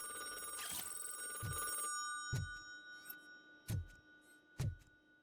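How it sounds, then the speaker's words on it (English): A telephone rings inside an apartment in the RoboCop video game, an electronic bell trill near the start followed by several sharp, evenly spaced thuds over a faint background hum. "I hear the phone. Where is the phone?"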